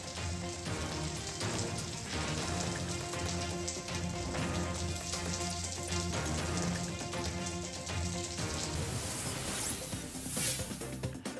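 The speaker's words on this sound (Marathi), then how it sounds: "आज लासलगावमध्ये पाऊस होता" Steady rain falls on surfaces in Lasalgaon, a dense, continuous hiss of drops with scattered louder patters, heard alone without voices.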